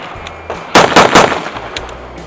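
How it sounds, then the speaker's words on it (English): A handgun fires three quick shots after a draw from the holster, sharp loud reports spaced roughly a quarter second apart, with no talking. "a better barometer for your draw the first shot is to fire 2 or 3 shots"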